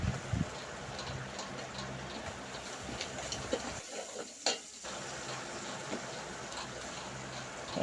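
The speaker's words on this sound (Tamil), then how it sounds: "வெங்காயத்தை போட்டு நல்லா வதக்கணும்." Onions sautéing in a pan for vegetable biryani, a steady soft sizzle with light stirring scrapes running throughout, briefly dropping away for a moment midway before resuming at the same even level.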